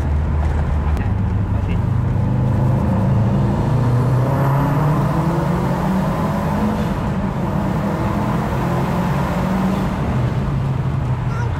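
A turbocharged Subaru sedan accelerates through a tunnel, its engine note rising in a loud, reverberant drone that persists throughout, with voices faintly present.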